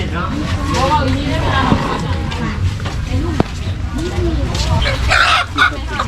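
Live chickens for sale cluck and squawk nearby amid a busy, noisy morning market in Savannakhet, Laos, with people talking in the background.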